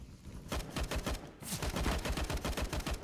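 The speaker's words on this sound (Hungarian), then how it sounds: "Longot nagyon lövöldözik." Rapid automatic gunfire in the shooter game CS:GO, with dense bursts of close, loud shots crackling almost continuously after a brief quiet start and only a short gap midway.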